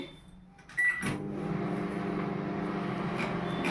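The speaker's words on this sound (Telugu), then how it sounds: "ఓవెన్లో పెట్టేస్తున్నాను పెట్టేశాను మూత వేసి" Microwave oven running while cooking palkova milk sweet, starting with a loud click and then a steady close-up hum that drones on evenly without talk.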